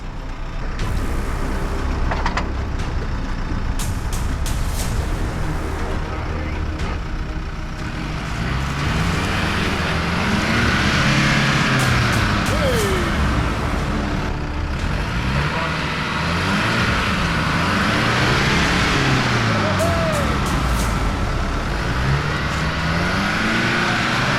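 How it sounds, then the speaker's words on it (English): A 4x4 snatch recovery pulls a bogged Jeep out of a muddy bog hole on the Watagans tracks, with loud engines revving up and down in surges, wheels churning over a continuous vehicle roar. "We're now in the process of setting up a snatch recovery to get him out."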